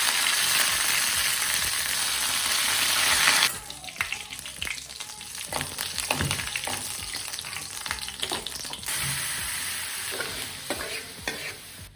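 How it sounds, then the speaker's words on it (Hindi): Loud crackling sizzle of hot oil as dal is tempered, then it drops as stirring takes over, with spoon scrapes and clinks over a softer ongoing frying hiss. "अभी हम दाल तड़का लगाते हैं"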